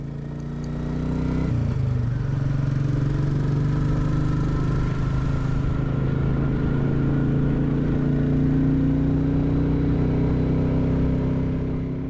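A Royal Enfield Classic 350 motorcycle rides along country roads, its engine droning low and steady with a slowly rising pitch and heavy wind rush throughout, close and continuous.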